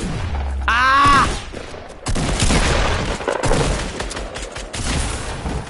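Rapid bursts of video game gunfire crackle steadily for several seconds after a brief vocal cry, loud and close, with machine-gun style repeated shots.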